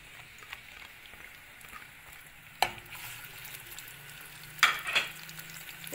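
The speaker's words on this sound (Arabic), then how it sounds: "هننزل مع بعض بشويه زيت اهو، وانزل بالبصله بتاعتي" Onion goes into oil in a pan and frying starts, with a sudden sharp sizzle burst partway through and a second crackling burst later, over a quiet kitchen background.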